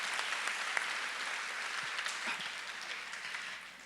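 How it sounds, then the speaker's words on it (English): Steady, dense applause from a large audience at an annual charity event, sustained evenly throughout without pauses or voices rising above it. "a big round of applause to the three of them and the entire board of directors"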